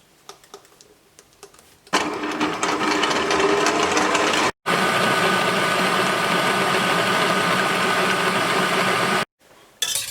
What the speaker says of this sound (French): Je mets ensuite mon mélange au batteur, et je mets à fond pendant à peu près 10-12 minutes.